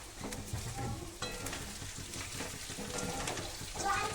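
Curry leaves and green chillies go into a pan of chicken fry, giving a steady sizzle and crackle of hot oil with stirring scrapes, moderately close and with no talking.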